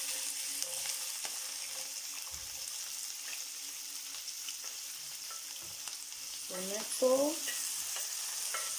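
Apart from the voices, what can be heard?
onion frying in olive oil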